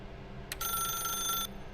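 A telephone rings in the video game The Stanley Parable: one brief ring, then a sustained electronic trill lasting about a second, clear and fairly close over a low hum, with no talk.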